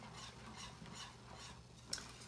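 A spoon scrapes and swirls through a thickening chai and sweetened condensed milk mixture in a pot, soft rhythmic stirring at low volume with a brief clink of utensil near the end.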